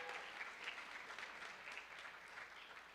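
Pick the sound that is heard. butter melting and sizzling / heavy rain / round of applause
round of applause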